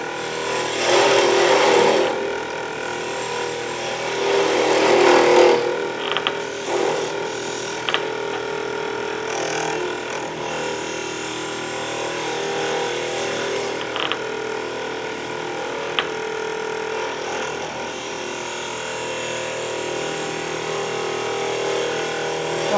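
Wood being cut on a lathe with a spindle gouge, a steady close scraping, rasping hiss that swells in a louder burst near the start, then settles into a continuous even shaving noise with small clicks, no talking.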